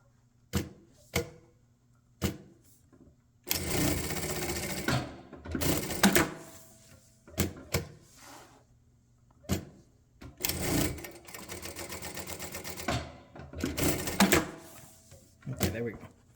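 A Jack A5E-A industrial sewing machine sewing seams fires in sharp thread-trimming clicks and several bursts of fast, buzzing stitching, interleaved with a person talking nearby.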